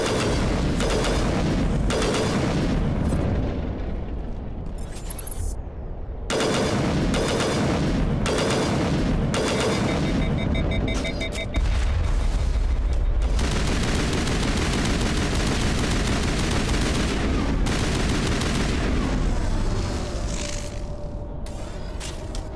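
Repeated gunfire from a close-quarters weapon in Mass Effect Legendary Edition, loud and dense bursts with booming impacts and mechanical clatter layered over continuous game sound effects throughout.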